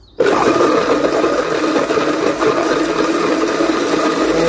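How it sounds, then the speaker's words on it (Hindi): Electric blender whirring a dry fruit milkshake of milk and brown sugar, starting abruptly and then running as a loud, steady motor roar close by for several seconds. "और इसको ब्लेंड कर लेंगे"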